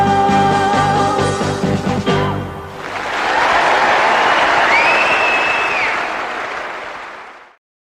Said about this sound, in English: everyone's all clapping